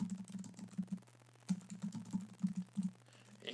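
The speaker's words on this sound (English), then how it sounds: "In fact, I'll even type it in here." Fingers type on a computer keyboard in quick, uneven bursts of clicking keys, with a short pause in the middle. The typing sounds close but soft and carries no talk.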